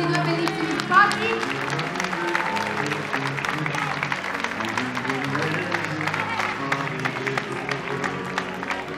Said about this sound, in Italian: Facciamo un applauso a questi due bellissimi sposi.